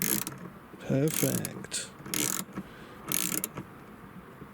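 A ratchet with a small 4mm socket turns a fastener inside the HVAC area of a Dispatch Jumpy / Expert / Scudo Mk1/2 van, giving several short bursts of rapid clicking spaced about a second apart, with a brief spoken word in between.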